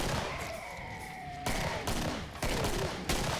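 Turret gunfire in Killing Floor, a dense, loud burst of rapid shots that runs continuously and then breaks into several heavy volleys, with tonal whines mixed in.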